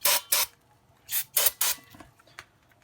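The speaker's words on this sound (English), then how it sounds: "I like to take some brake cleaner and I'll just spray off the rotor, wipe it down." Brake cleaner sprayed onto a Chevy Cruze rear brake rotor in five loud, close hissing bursts, two quick ones, a pause, then three more, followed by a faint short hiss.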